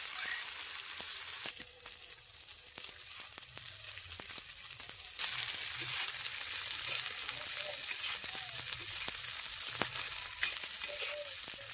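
Egg pieces fry in hot oil in a village kitchen, giving a steady, close sizzle with scattered pops and crackles that grows a little louder partway through.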